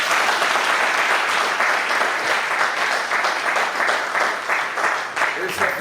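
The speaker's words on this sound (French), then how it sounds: "Qu'il soit applaudi, s'il vous plaît" A crowd applauds a newly crowned couple at a wedding ceremony, dense sustained clapping that holds steady and loud throughout, with faint voices mixed into the din.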